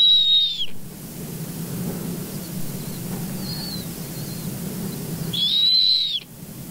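A snowy owl call recorded in the wild, two brief high whistled notes, one at the start and one near the end, set against a steady low rumble of background noise.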